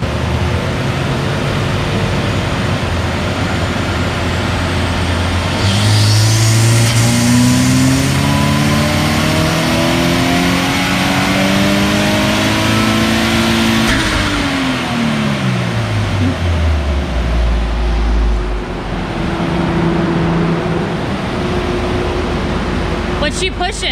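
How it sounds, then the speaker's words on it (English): A Subaru engine on a dyno roars loudly, revving up to a high, sustained whine, then winding back down to a rough, steady idle. "doing a little bit of a dyno test on a Subaru."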